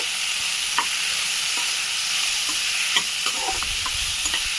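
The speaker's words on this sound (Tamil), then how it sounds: "எண்ணெயில் போட்டு நல்லா வதக்கிடுங்க." Chunky onions and tomatoes sauté in hot oil for a Tamil chickpea gravy, a steady bright sizzle with occasional stirring clicks and scrapes.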